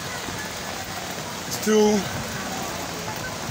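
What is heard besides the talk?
rain falling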